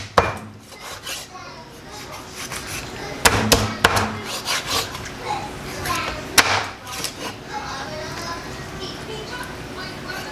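Knife work cutting raw chicken into pieces on a cutting board with scraping and a few sharp chops, close up, alongside faint background chatter and kitchen noise.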